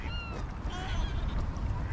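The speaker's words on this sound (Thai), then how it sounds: "ทั้งเป็ดทั้งห่าน" A chorus of ducks and geese honk and quack together on water, a busy overlapping racket of waterfowl calls at moderate distance, in England after snowfall.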